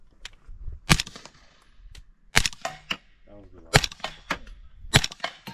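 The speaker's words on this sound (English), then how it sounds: "the Q Honey Badger, same Trash Panda 30 cal can, subsonic, S&B 300 blackout" Suppressed Q Honey Badger rifle with a Trash Panda 30 cal can fires subsonic S&B 300 Blackout: several sharp, loud cracks spaced about a second apart outdoors, with people talking quietly between shots.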